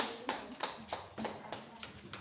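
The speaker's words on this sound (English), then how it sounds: "You deserve hands of applause." Hands clap in a steady series of about eight sharp, fairly faint claps at an even rhythm, heard alone in a quiet room.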